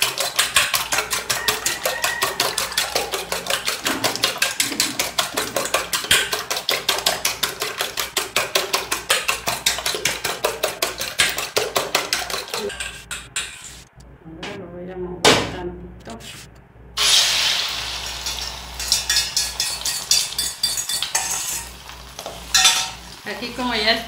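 Beaten eggs with salt are whisked with rapid rhythmic clicks, then hit a hot pan with a sudden sizzle and steady frying, while someone speaks Spanish throughout.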